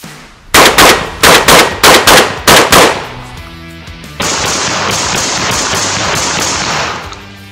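A Beretta 1301 Tactical shotgun fires on a range in a quick run of six loud, close blasts about half a second apart, followed by a sustained broadband roar that lingers before tapering off.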